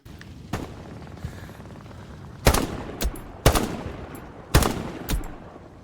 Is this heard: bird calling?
no